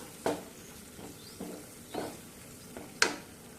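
Spices with red chili and black pepper being stirred in a pan for a vegetarian paneer dish, with a faint sizzle under a few separate scrapes and taps of the spoon, the last one sharpest.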